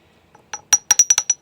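A series of sharp glassy clinks and taps, about six in quick succession, as bee abdomens are crushed and ground inside a small glass vial.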